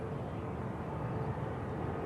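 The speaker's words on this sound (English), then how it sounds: "Here is the KLM just taxiing into gate." A KLM airliner taxiing to its gate at Manchester Airport produces a steady, broad engine rumble and whoosh, moderately loud and unbroken for the whole moment.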